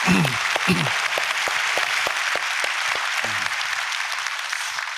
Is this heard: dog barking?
no